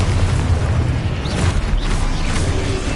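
Expulso explosion spell in Hogwarts Legacy on PS5, a loud rumbling blast with deep booming low end and crackling debris, sustained for about three seconds.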